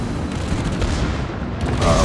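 Guns on the Soviet cruiser Budyonny firing armor-piercing shells during a World of Warships naval battle, a dense, continuous rumbling salvo with heavy booms layered over one another and no quieter gaps.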